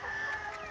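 A faint rooster crow drawn out over a low background hiss, with a hint of clucking from nearby caged chickens.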